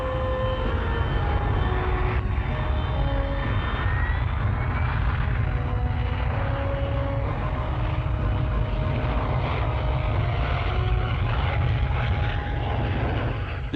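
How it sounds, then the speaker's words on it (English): A 1965 Hawker jump jet hovers on its own jet thrust with nozzles turned downward at a semi-prepared airfield, a steady, loud, continuous roar with a heavy low rumble and some whining tones, unbroken for the whole stretch. "With nozzles turned downwards, the aircraft hovers on its own jet thrust."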